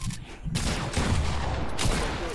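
Gunfire in the video game Fortnite, dense rapid bursts of shots clustered together, loud and close, with a brief gap between volleys.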